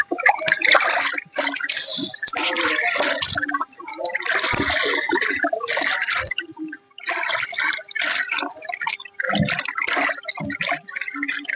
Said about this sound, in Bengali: এখন গোশগুলো পানি দিয়ে সুন্দরভাবে ধুয়ে নিচ্ছি।